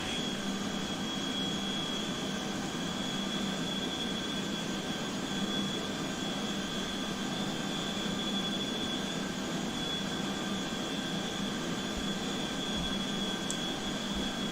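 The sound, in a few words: jet engine of NATO E-3 Sentry in video game MSFS2020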